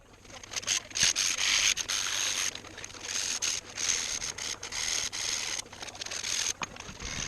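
Fine 600 to 1000 grit sandpaper rubs over a vintage metal hand plane in quick repeated strokes, a close, steady scratchy hiss broken by short pauses, with no talking.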